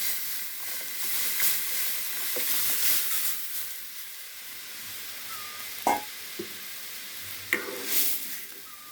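Chili, whole mustard seeds and dal hit hot oil, giving a soft continuous sizzle and hiss with a few sharp pops and crackles later on, faint and steady with no talking.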